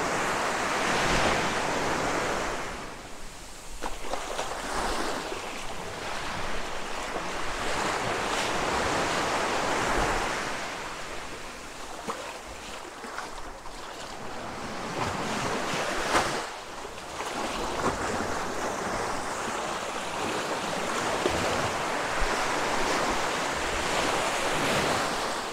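Waves on a beach at Hat Wanakorn National Park, surf rolling in with repeated rushing swells and a wind-buffeted hiss throughout, fairly close and alone with no talk.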